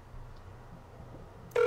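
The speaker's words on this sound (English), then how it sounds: "So there's our incoming call." An incoming call on the Bria softphone app begins to ring right at the end, a sudden clear electronic tone after a quiet stretch of low background hum.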